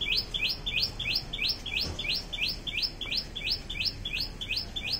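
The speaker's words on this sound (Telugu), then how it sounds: "పక్షులు చూడండి ఎలా తినేస్తున్నాయో." Birds chirp in a rapid, evenly repeated series of bright tweets over a steady outdoor hum in a small terrace garden of vegetables and fruit plants.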